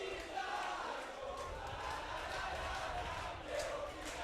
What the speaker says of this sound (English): Italian U19 boys team cheering on their girls.